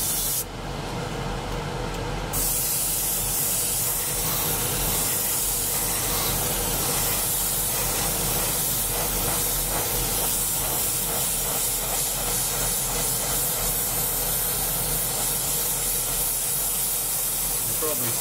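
Spray gun laying down a thicker coat of paint, a steady, loud hiss that runs without a break the whole time, close to the nozzle, with a brief higher hiss near the start.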